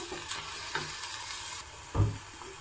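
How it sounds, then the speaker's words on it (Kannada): Fenugreek leaves and ground masala frying in oil, a steady soft sizzle with a few light stirring scrapes and one louder clunk near the end, close and without speech. "ಈಗ ನೋಡಿ ಮೆಂತ್ಯ ಸೊಪ್ಪು ಸಹ ಚೆನ್ನಾಗಿ ಫ್ರೈ ಆಗಿದೆ ಎಣ್ಣೆಯಲ್ಲಿ ಇದಕ್ಕೆ ಇವಾಗ ರುಬ್ಬಿರೋಂತಹ ಮಸಾಲೆಯನ್ನು ಹಾಕೋತಾ ಇದ್ದೀನಿ"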